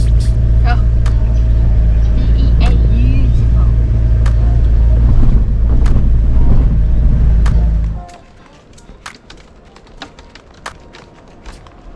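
Steady engine and road rumble of a car driving for about eight seconds, then the motor cuts out, leaving quieter ambience with scattered clicks and faint bird calls.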